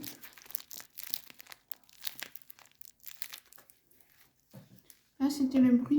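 A homemade squishy stuffed with aluminium foil gives off a string of crisp, close crinkles and rustles in short bursts, followed at the end by a burst of speech.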